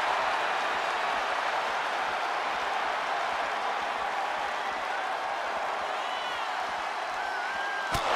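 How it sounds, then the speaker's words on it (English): A WWE championship wrestling crowd roars in a dense, continuous wash of cheering and shouting, with a faint whistle near the end. "Just listen to the crowd roar."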